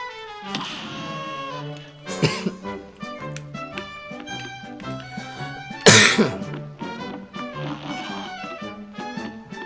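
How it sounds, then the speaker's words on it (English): A person coughs during a Cuphead game stream, with two sharp, loud bursts breaking over bouncy in-game music. "you've been coughing a lot this stream"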